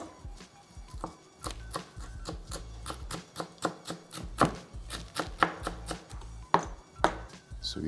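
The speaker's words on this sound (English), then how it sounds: "for the herbs, I just chop it up some shadow benny." A knife chops shadow benny herbs on a cutting board for breadfruit fritters, giving a steady run of sharp, close taps for about eight seconds with no talk.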